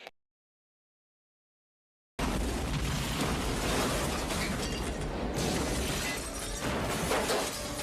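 A car blowing up, a sudden loud blast after two seconds of silence followed by a sustained roaring, crackling wash of debris and fire.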